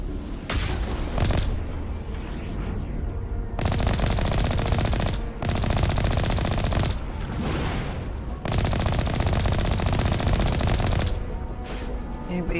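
Rapid automatic gunfire from the Mass Effect video game rattles in long sustained bursts separated by brief pauses, loud and close, with occasional heavier booms; no one talks over it.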